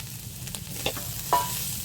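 Chicken pieces fry in a hot pan with a steady soft sizzle, broken by a few brief clinks and scrapes of stirring, close and fairly quiet, no talking.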